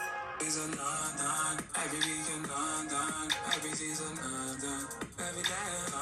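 UK rap music playing at moderate volume, with a rhythmic beat, synth chords and a rapping vocal running throughout.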